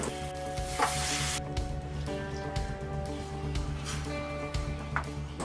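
Ground tomato kurma paste sizzles and spits in a hot pan, with steady frying hiss and occasional scraping stirs close up.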